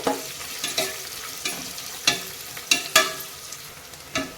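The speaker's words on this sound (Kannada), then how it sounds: "ಇದು ಚೆನ್ನಾಗಿ ಎಣ್ಣೆಯಲ್ಲಿ ಫ್ರೈ ಆಗಬೇಕು ನಮಗೆ." Onions and mixed vegetables fry in oil for a vegetable biriyani, a soft steady sizzle broken by a series of sharp scraping clicks as they are stirred in the pan, close and fairly quiet with no talking.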